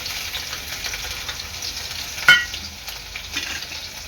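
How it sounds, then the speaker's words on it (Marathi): Garlic, ginger and chili sauté in a pan with a soft, steady sizzle and a single sharp scrape of stirring, fairly quiet and close. "1 ते 2 मिनिटं हे चांगलं परतून घ्यायचं आहे"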